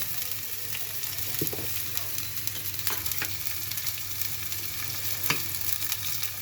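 Onions frying in oil in a pan for liver curry, a steady close sizzle with occasional stirring clicks and scrapes throughout.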